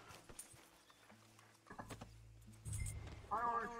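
Horse hooves clip-clopping in Red Dead Redemption 2, a soft irregular patter under low talk, followed by a louder swell and a brief tonal sound near the end.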